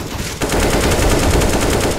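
Rapid automatic gunfire in a Counter-Strike style first-person shooter match, a loud continuous burst of closely spaced shots starting abruptly and running through to the end.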